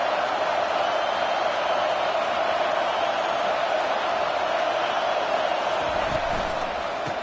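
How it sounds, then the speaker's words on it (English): Football stadium crowd during a KML vs Tennessee game: a dense, sustained roar of cheering that stays loud and steady throughout. "Now the crowd responding in the red zone"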